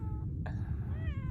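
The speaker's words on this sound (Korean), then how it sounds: "여기서 야옹이를 좀 만났어요." A cat meows on a mountain trail at Gayasan, one clear mewing call rising and then bending, close by over a steady low rumble of wind or background noise.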